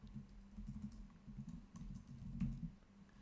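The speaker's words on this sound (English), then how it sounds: "If I start typing" Fingers type on a computer keyboard in a quiet room, with quick soft key taps in short irregular runs over a low steady hum.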